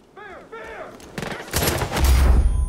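Far Cry 5 gunfire from a hard-recoiling gun, a close, loud rapid volley building after a brief whistling tone at the start, with no talking.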